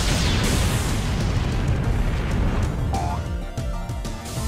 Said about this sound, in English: Yeah, the pumpkin bombs, just wish they had that kind of explosion radius in Secret of Mana.